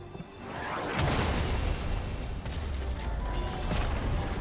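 A League of Legends turret is destroyed in a dense, continuous rumble of crumbling and explosive impact, with whooshing game effects layered on top. The sound is loud and sustained, with no voices over it.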